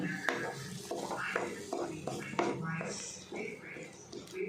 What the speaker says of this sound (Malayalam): വെളുത്തുള്ളി ഇഞ്ചിയിലേക്ക് ഒരു പച്ചമണം മാറണ വരെ നമുക്കൊന്ന് ഇളക്കാം